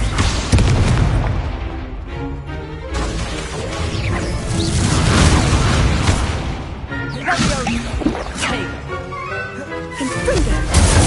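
Fiery spell blasts from a video game crash and whoosh with heavy booms, layered over busy game music and effects with repeated bursts throughout.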